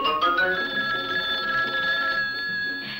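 A kitchen telephone rings with a steady, bright electronic trill that holds continuously at a moderate, close level for several seconds, with no talking over it.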